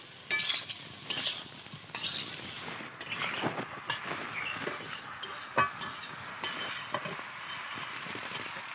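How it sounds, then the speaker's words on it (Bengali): Boiled potatoes and Malabar spinach stalks with spices being sautéed in a pan for a Bengali egg curry, a soft steady sizzle under repeated scraping and clinking strokes of a spatula, close by and moderately quiet. "দেখেছো কতটা সুন্দরভাবে কষাচ্ছি।"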